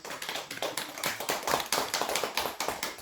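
Scattered, uneven clapping from a small audience at a Buddhist dharma talk, individual hand claps distinct and rhythmic, swelling and thinning in bursts.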